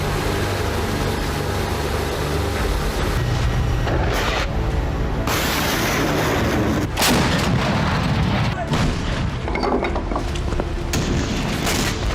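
Artillery fire from a Russian bombardment of Ukrainian cities, a dense, continuous roar of booms and blasts that stays loud throughout with no pauses and no speech.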